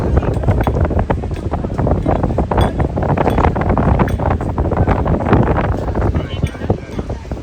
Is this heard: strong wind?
yes